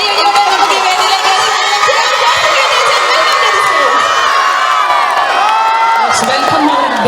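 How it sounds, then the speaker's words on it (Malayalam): A school audience at an Onam celebration erupts into loud cheering, whooping and shouting, children's voices prominent, sustained and close for several seconds as a father is welcomed onto the stage. "അച്ഛന് നല്ലൊരു കയ്യടി കൊടുക്കണം കേട്ടോ."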